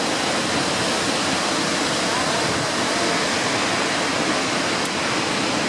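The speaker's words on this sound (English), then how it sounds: "I am visiting the Victoria Falls in the middle of the dry season." Victoria Falls waterfall in the July dry season, lower water volume: a steady, dense roar of falling water, constant and unbroken throughout, heard from a moderate distance with no voices.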